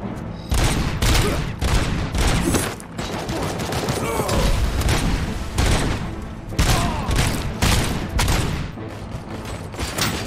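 SMG gunfire in the video game RoboCop: Rogue City comes as loud, dense bursts of rapid automatic shots, broken by short pauses, with booming impacts and no talking over it.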